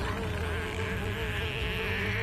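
A fly buzzes in a Bangla superhero cartoon, Bantul The Great: one steady, close, droning whine that holds without a break throughout, with no talking over it.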